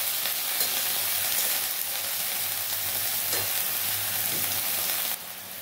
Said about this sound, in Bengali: শাকটা একটু নাড়িয়ে চাড়িয়ে দিয়েছি